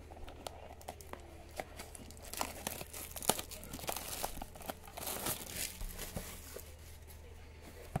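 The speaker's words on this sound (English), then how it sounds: "If I peel off the cellophane." Cellophane wrap is peeled off a 2023-24 Panini Phoenix basketball card box, making close, continuous crinkling and crackling with a few sharper tearing snaps throughout.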